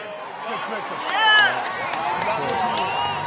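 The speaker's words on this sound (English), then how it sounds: "you hear the crowd" A baseball crowd at a World Series game roars as a continuous dense wash of cheering and babble that swells briefly, with a voice talking over it.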